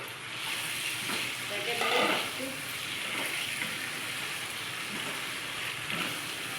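Minced chicken hits a hot pan with garlic and sizzles steadily, an even bright crackle with a short louder burst early on. Occasional stirring scrapes break into the frying, and nobody speaks.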